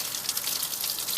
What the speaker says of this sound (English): I'm just running this thermometer underneath the tap here.